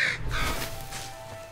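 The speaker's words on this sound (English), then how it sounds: "Big bird." A large bird in the game Moss lets out a harsh, crow-like cawing call, loud and fairly close, fading over a second and a half.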